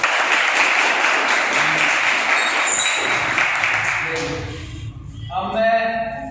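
Audience at a coaching institute event clapping together, a sustained burst of applause that fades after about four seconds into a room with scattered tones and some speech.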